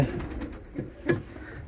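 Low, soft coos from a short-beaked pigeon hen come in a few short murmuring pulses over a quiet background, fairly close by.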